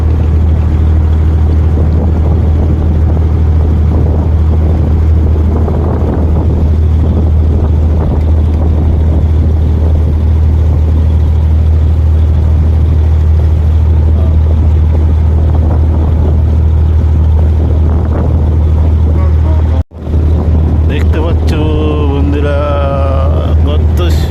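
Ferry boats work at the Dubai ferry ghat. A steady low engine drone runs throughout, buffeted by wind noise on the microphone, with voices heard faintly in the background.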